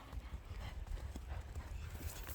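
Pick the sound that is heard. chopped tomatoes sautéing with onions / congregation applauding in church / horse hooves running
horse hooves running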